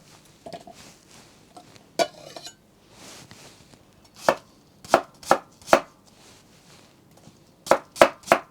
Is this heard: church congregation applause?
no